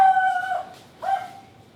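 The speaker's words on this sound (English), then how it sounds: "That would be Pinta chasing a chicken." A chicken squawks while being chased, giving two loud, shrill calls close by with a short gap between them and no talking.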